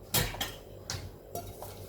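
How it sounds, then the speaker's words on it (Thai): Metal pot and pan set down on a kitchen stove while cooking a Thai basil omelette, a few short clanks and scrapes spaced irregularly, close and fairly quiet, with no voices. "เราก็จะตั้งหม้อกระทะเนาะ"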